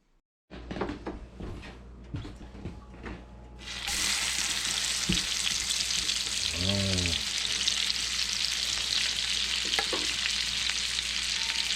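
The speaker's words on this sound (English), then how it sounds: "The sound of sizzling rabbit wings." A few clatters and knocks give way to a loud, steady sizzle of rabbit wings with buffalo sauce frying in a pan, with a brief cat meow partway through.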